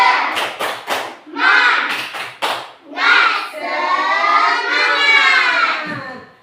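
Indonesian children clap together in a quick rhythmic pattern of sharp bursts, then shout "semangat" in unison, close and loud.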